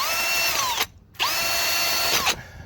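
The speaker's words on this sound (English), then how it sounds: "I always like to take a wire wheel" A wire wheel spun by a power drill scours a Dodge brake caliper, giving two loud, close, sustained whirring grinds with rising and falling pitch, split by a brief pause.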